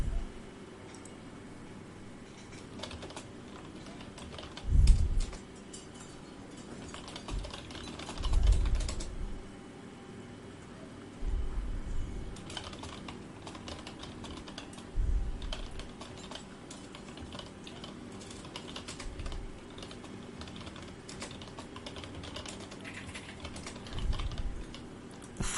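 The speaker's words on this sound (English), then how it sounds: "Sorry about the keyboard noises, but there's not much to do about that." Steady computer keyboard typing fills the clip, a dense run of close, quiet key clicks with no speech, broken by a few louder low thumps along the way.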